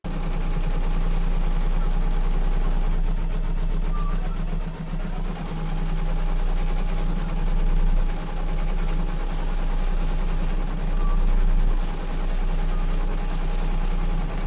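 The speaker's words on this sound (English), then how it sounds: "the next thing we want to do is do the quilting" A sewing machine stitches crosshatch quilting lines through the layers of a sunglasses cover, humming with a steady, fast mechanical rhythm that runs continuously and close.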